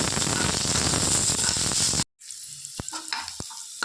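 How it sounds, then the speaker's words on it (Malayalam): Okra fries loudly in hot oil with popping mustard seeds while podi sambar is prepared, a dense, steady sizzle for about two seconds that cuts off abruptly, followed by quieter crackles and a few sharp clicks. "നമുക്കിനി ഇതിലേക്ക് വെണ്ടയ്ക്ക ഇട്ട് കൊടുക്കാം."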